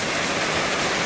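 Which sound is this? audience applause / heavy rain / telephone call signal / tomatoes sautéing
heavy rain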